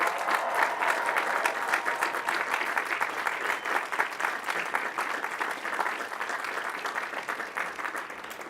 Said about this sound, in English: So stand up and give them a cheer.